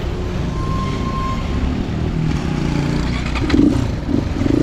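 Motorcycle running on the road on a ride toward Kathmandu, a steady engine drone with rattling and scraping, wind rumble, and a brief rev near the end.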